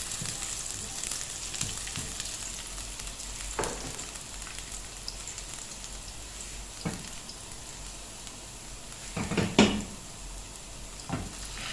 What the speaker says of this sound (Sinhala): තෙල් හැඳි එකක් අරගෙන මම කුරුඳු පොතු, එනසල්, කරාබි නැටි සහ ලුණු හොඳින් බැද ගන්නවා